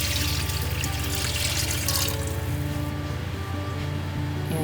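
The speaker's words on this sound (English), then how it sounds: "And I'm going to add some water." Tap water pours steadily and loudly into a plastic tub holding vinegar, a continuous close splashing rush that drops a little near the end.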